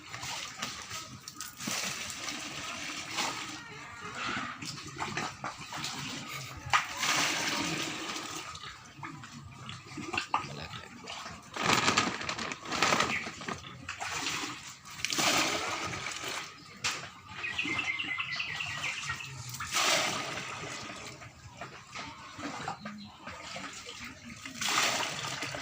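Water is poured and sloshed into a container to make drinking water for a cow, splashing and gurgling steadily at close range for about half a minute.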